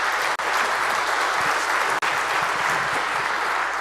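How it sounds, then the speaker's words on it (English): An audience at a tech conference talk gives a round of applause, steady and full clapping from a crowd heard close, with two brief dropouts in the sound. "Round of applause."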